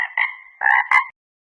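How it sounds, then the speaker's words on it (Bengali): A frog croaks three times in short, close, clear calls, the last two closer together, followed by silence. "ব্যাঙ ডাকে বর্ষাকালে।"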